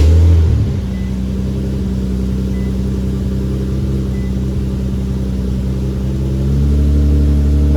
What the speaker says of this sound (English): Let's go ahead and start the car and see if we have anything wrong with it.